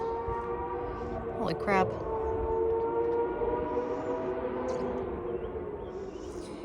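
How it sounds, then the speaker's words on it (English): Several dirt bikes race down a hill on the Appalachian Trail. Their engines make a distant, wavering drone with rising and falling revs in the background, while a hiker speaks briefly nearby over rustling outdoor noise. "I think I hear at least 4 different bikes in the background racing down that hill"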